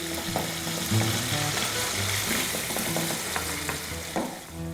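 Paneer fries in a pan over a high flame, giving a dense, steady sizzle with light scraping clicks throughout, close and loud with no talking.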